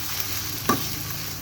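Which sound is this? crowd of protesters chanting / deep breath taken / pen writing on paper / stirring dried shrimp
stirring dried shrimp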